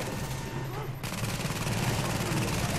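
Automated turret gunfire in the video game The Division, a dense, rapid rattle of shots that bursts in after a brief lull and keeps firing loudly to the end.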